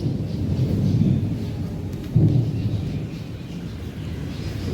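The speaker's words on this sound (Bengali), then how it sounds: "খুব বৃষ্টি পড়েছিল, এই যে মেঘ ডাকছে" Thunder rolls low and heavy through steady rain, with a deeper surge of rumble midway and the wash of rainfall continuing underneath throughout.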